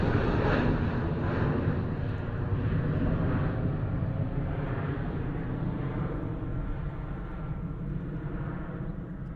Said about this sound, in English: that used absolutely no runway at all. What a early rotation and steep climb that was